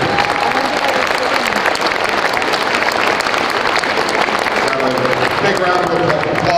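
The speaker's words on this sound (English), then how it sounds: "Big round of applause for our 2023 inductees." A packed high school gym at a boys basketball game bursts into loud, sustained applause and crowd noise for the 2023 hall of fame inductees, dense clapping with voices mixed in.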